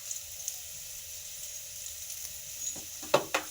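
Cabbage and potatoes fry in a pan with a soft, steady sizzle at low volume, and a few sharper scraping stir sounds break in near the end.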